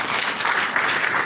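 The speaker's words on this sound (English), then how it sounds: "let us clap altogether." Audience applause at the launch of ED3.0 AIM Global in Zambia: a dense, steady wash of many hands clapping together, close and fairly loud, continuing without a break.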